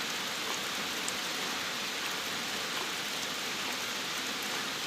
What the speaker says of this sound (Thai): ฝนตกอยู่ นี่ครับ